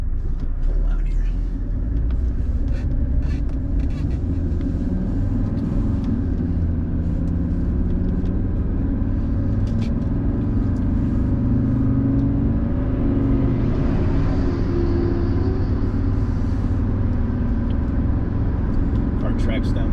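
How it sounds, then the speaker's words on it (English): A 1985 Mercedes-Benz 300SD, a W126 turbodiesel sedan, cruises down the road with a steady low engine rumble and road noise throughout, while someone talks over it. "Car tracks down the road nice and straight."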